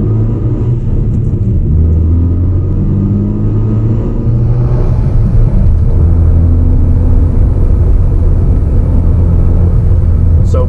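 Hyundai Veloster Turbo fitted with a cone intake filter accelerating hard in third gear, a loud, steady engine drone with a deep rumble that swells as revs build, heard from inside the car with no talking.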